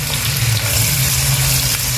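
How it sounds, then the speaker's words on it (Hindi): Chopped onions frying in hot oil for chicken biryani, a steady dense sizzle that stays loud and constant throughout, close up, with no voices. "अब इसके अंदर हम प्याज ऐड कर देंगे और इसको गोल्डन होने तक पकाएंगे।"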